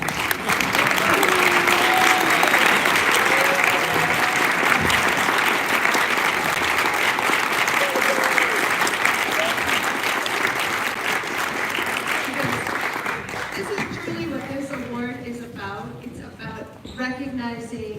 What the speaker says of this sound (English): Could you just quickly stand so we can applaud you all?